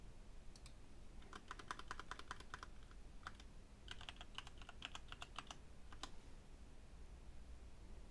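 Typing on a computer keyboard while renaming a file in Google Drive: quick bursts of close, light key clicks with short pauses, quiet and alone with no talking.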